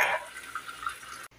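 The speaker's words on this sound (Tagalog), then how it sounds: "lagyan natin ng tubig na isang kaso" Water pours into a cooking pot for lentils, a brief splashing burst at first that settles into a softer trickle, ending abruptly.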